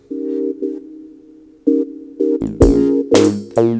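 A bass and lead synth patch, sequenced on an Elektron Digitakt using four-voice polyphony, plays short tonal notes that bloom into a splashy, metallic spring reverb, building to louder, denser chords at the end.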